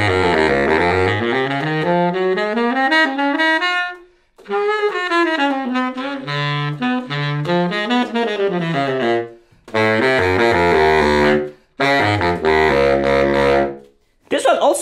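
A baritone saxophone fitted with an ECM mouthpiece plays a run of phrases, close and full, sliding through rising and falling lines with brief breath pauses between them.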